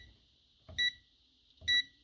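A multimeter set to continuity mode, used to test a Jura Ena coffee maker's switch, gives two short, clear beeps about a second apart against near silence.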